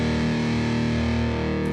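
Big, heavily distorted electric guitar tone from a JS-model guitar, a thick sustained chord ringing loud and steady with no gaps for nearly two seconds.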